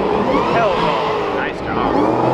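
A loud Ford Mustang engine roars at high revs through a brief drag racing launch, with a rising whine and crowd noise mixed in, close and sustained.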